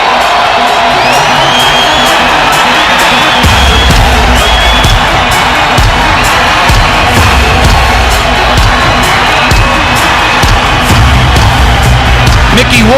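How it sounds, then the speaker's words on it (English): Boxing arena crowd roaring and cheering as Arturo Gatti emerges for his entrance, a dense, continuous wall of noise with whoops and shouts throughout, loud and sustained. "And now the crowd waits for their hero to emerge"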